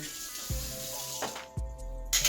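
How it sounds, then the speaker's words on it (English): Tap water rinses a spoon at a kitchen sink while Thai peanut sauce is being made: short splashing bursts, with a brighter rush of running water near the end. "Rinse off my spoon."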